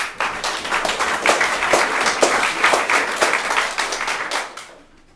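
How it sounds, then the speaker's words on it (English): An audience claps loudly and steadily for several seconds, the applause thinning out and fading away at the end. "let's give them a round of applause"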